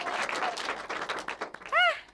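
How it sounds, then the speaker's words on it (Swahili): Audience applause for a church choir chairman during a live Ascension Sunday Mass broadcast of St. Philomena choir, a steady patter of many hands clapping that ends in a brief high, whistle-like tone. "makofi mengi kwake mwenyekiti."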